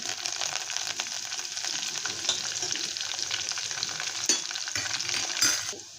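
Close, continuous sizzle of onions frying in a pan for tempering, with scraping stirs and a couple of louder clatters before it fades; no voices.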